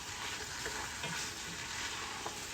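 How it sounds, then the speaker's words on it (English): Bell peppers and onion sizzle steadily as they are stirred in a pan over high heat for chicken curry, a constant close frying hiss with a few soft scraping stirs. "in the bell peppers and the onion. Let's just mix that in. Make sure it's on that high heat. Give it a good stir."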